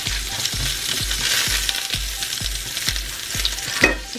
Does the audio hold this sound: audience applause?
no